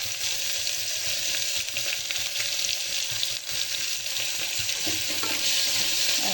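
Ground onion paste fries in a pan, a loud dense continuous sizzle with occasional stirring scrapes, close up throughout and no one speaking.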